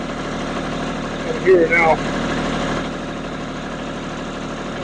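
A tractor engine idles steadily in the background with a low constant rumble while someone briefly speaks over it near the machine.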